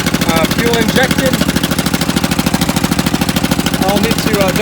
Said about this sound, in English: Got a 22 horsepower engine, fuel injected.